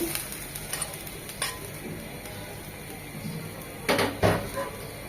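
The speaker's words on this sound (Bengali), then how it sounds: "এই পর্যায়ে আমরা যে মাছগুলো হালকা করে বেলে মাছগুলো ভেজে রেখেছি সেটা দিয়ে দিচ্ছি।" Lightly fried small bele fish go into a simmering stew in a pan: a low, steady sizzle with a few soft knocks and a brief clatter of pan and utensil near the end.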